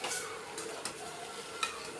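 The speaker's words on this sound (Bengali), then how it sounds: "এঁচড় আর আলুটাকে খুব ভালো করে কষাচ্ছি, একটু সময় নিয়ে করতে হবে।" Jackfruit and potato stir-fried with salt in a pan make a soft, steady sizzle, with a few quick stirring scrapes across a short stretch.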